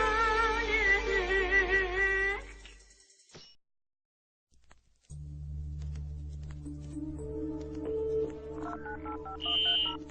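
Telephone tones sound during a call to a mobile phone: a dense run of tones, then a brief silence, then steadier tones with a rising beep near the end, heard in an Iraqi song.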